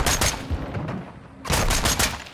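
Bursts of rapid gunfire in Call of Duty Modern Warfare 2, a dense volley at the start and another loud burst after a brief lull.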